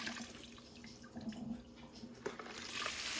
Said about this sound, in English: Drain the water off of these beans.